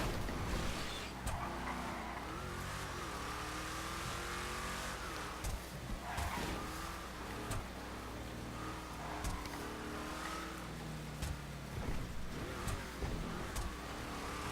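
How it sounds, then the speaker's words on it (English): A trophy truck in GTA tears along with a continuous loud engine roar, revs shifting up and down, punctuated by repeated thumps and skids over rough ground. "The trophy trucks are the best vehicle GTA made."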